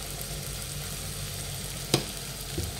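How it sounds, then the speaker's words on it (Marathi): Tomatoes frying in a pan with turmeric, red chili powder, coriander powder and spice mix, giving a steady low sizzle throughout, with a single sharp clink of a utensil near the end and a softer knock shortly after. "टोमॅटो छान फ्राय झालेले आहे।"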